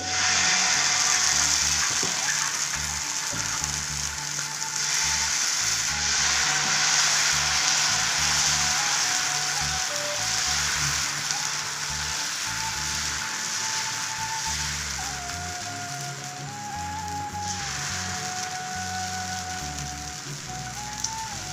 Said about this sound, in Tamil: இப்போ நம்ம தோசையும் ஊற்றிக்கலாங்க பாருங்கள் தவா நல்லா காஞ்சிடுச்சு